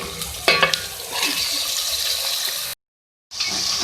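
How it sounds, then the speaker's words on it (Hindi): Chicken pieces frying with ginger garlic paste in a pan for a chicken, potato and pea curry, giving a steady broadband sizzle with stirring scrapes near the start, a brief cut to silence, then the sizzle resumes. "चिकन को जो है फ्राई किया है अदरक लहसुन के साथ"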